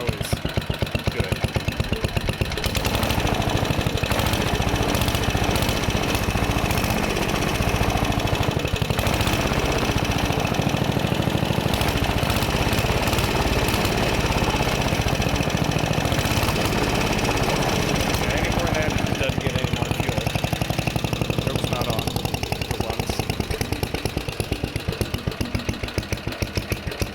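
A 69-year-old Briggs & Stratton 23A-FB engine runs steadily nearby, a loud rapid chugging putter with a rough, even rhythm throughout, while someone speaks over it at times.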